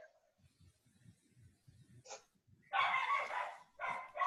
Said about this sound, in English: Is that a puppy?